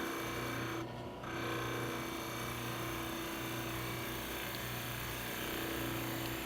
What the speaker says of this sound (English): If you're having difficulty making this cut with the skew, you can try using a spindle detail gouge.